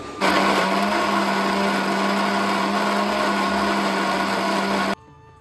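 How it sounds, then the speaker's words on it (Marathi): A kitchen mixer grinds ginger, garlic, cloves, black pepper, cinnamon, asafoetida and tulsi leaves, running as a loud, steady whirring drone for about five seconds before cutting off abruptly. "आता हे पूर्ण असं मिक्स करतो, म्हणजे मिक्सरला वाटून घेतो"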